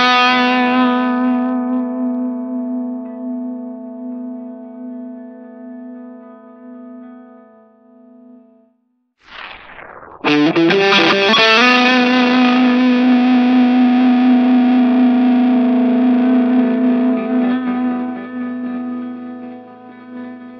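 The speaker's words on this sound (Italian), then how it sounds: "I pedali fuzz, come distorsori ed overdrive, aumentano le armoniche presenti nel nostro suono" An electric guitar through a fuzz pedal rings out loud, sustained and saturated, holding one note, briefly dropping out, then striking a new thick, buzzing chord that rings on steadily.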